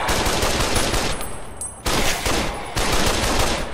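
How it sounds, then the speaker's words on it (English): Automatic rifle fire from Fallout: New Vegas, loud, dense bursts of rapid shots in three long runs separated by brief pauses, close and dominating. "Okay, automatic rifle. There we go."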